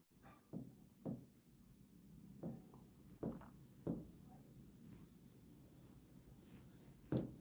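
Short strokes of writing on a board come in a series of separate taps and scratches with brief pauses between them, close and fairly quiet in a calm room.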